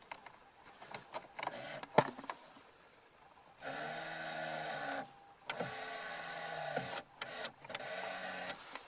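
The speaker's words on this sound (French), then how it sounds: "ça c'est rétroélectrique quand même" On a classic Range Rover, an electric door mirror motor whirs in several short bursts of a few seconds each, close and clear, after some faint clicks and handling noises.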